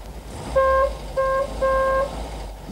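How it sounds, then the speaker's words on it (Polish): A car horn honks three times in a steady rhythm, near and loud, with a low engine rumble underneath. "Trąbią na ciebie."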